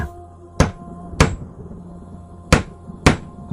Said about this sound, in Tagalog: habang pumupukpok ng martilyo si Atan sa sahig ng kanilang tahanan.